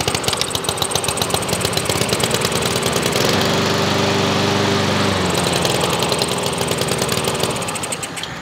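A Honda lawn mower engine with the choke wide open runs loud and close, its rapid, even firing pulses holding steady throughout, with no voices.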